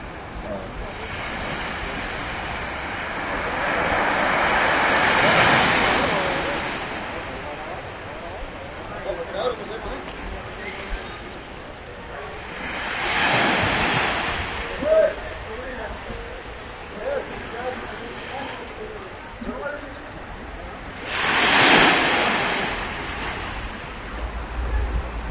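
A waterspout off southern Gran Canaria lifting sea water, heard as a broad roaring rush that swells and fades in three long surges over steady wind noise, with voices talking faintly underneath.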